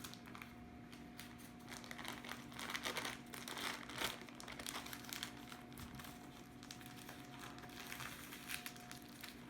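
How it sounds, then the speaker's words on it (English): Parchment paper crinkles softly as it is peeled off a baked matcha roll cake sponge, a faint, continuous rustle at close range. "And peel the parchment paper."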